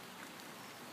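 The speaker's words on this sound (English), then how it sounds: "it's pouring down with rain, but I like the rain." Heavy rain pours down outdoors, a dense, steady hiss of countless drops with no pauses and no voices.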